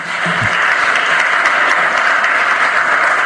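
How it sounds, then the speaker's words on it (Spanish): Loud sustained applause from an audience at a Supreme Court extraordinary criminal plenary session, dense clapping filling the room steadily throughout, close and alone. "Lo recibimos con un fuerte aplauso."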